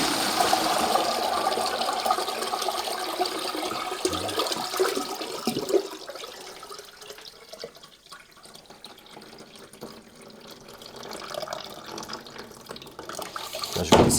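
Water running from a kitchen tap while ice cream is being made, a steady rushing flow that fades and thins toward the middle before growing louder again near the end, with no talk.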